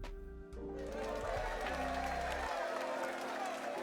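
A Twitch cheer alert chimes in, followed by a few seconds of steady crowd applause and cheering that fills the space loudly and continuously, with faint voices mixed in.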